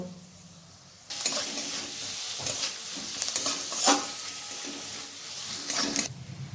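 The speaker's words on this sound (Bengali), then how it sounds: "রসুন কুচিটাকে আমি 2 মিনিটের মতো ভেজে নেব।" About two spoonfuls of chopped garlic sizzle loudly in hot oil over lightly browned onion for mutton keema tadka. The sizzle starts suddenly after a quiet second, with occasional spatula scrapes over a steady hiss.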